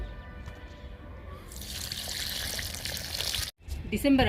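Liquid fertilizer poured onto a wilted, sun-damaged curry leaf plant, a steady splashing pour that starts partway through and runs close and loud, with a brief pause near the end.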